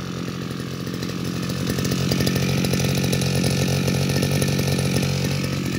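A Hitachi CG33 33 cc brush cutter engine runs steadily and loudly at close range, a continuous buzzing two-stroke drone that swells slightly after the first two seconds and then holds even, with no talking.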